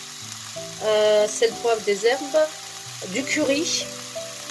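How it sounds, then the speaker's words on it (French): Minced meat sautés with chopped shallots and curry in a pan, a soft sizzle running under a person talking throughout. "Vous faites revenir tout ça avec deux échalotes hachées comme je vous ai expliqué."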